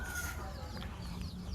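Laying hens in a backyard coop cluck softly and irregularly, faint and distant against a steady low background rumble.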